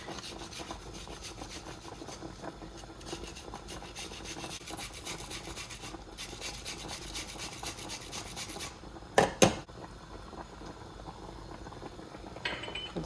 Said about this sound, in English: I'm gonna finally grate the onions.